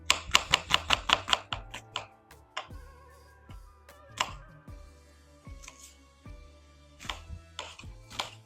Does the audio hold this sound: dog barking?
no